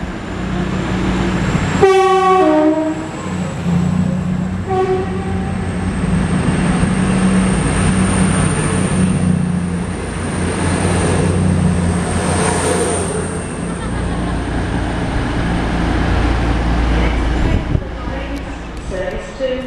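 A seven-coach passenger train calling at Derby and Chesterfield on the Sheffield service rolls into Leicester station, its rumble building loud and steady with a short horn blast near the start amid platform ambience.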